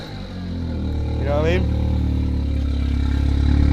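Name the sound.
car engine starting and revving, purple-wrapped car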